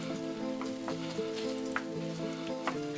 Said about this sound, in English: You're gonna stir it to combine, just to make sure that you simmer it